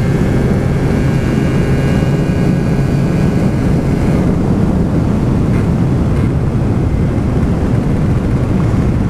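A Gilera Runner FXR 180 scooter fitted with a larger carburettor and slightly different tuning runs with a loud, steady, dense engine drone that holds unbroken and close for the whole stretch, with no talking.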